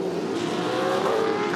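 V8 Supercars racing cars set off on the warm-up lap at the Winton SuperSprint, a loud steady blend of engine roar and revving, close by and continuous, with no voices.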